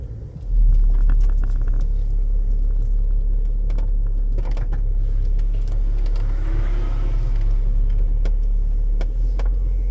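A car pulls up close behind, its low engine rumble swelling in at the start and then holding a steady idle, with scattered light clicks and taps on top.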